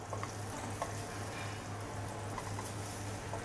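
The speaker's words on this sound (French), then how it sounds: "Alors n'hésitez pas à mettre de l'huile, il faut que ça soit une friture presque" Panisse, chickpea fritters, frying in generous oil in a pan: a steady, close hiss of sizzling oil with scattered crackles and pops, a low electrical hum underneath, and no talking.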